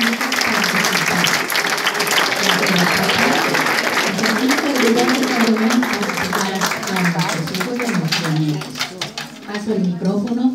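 Audience applause after a school big band performance, sustained loud clapping from a crowd filling the whole stretch while someone talks over it.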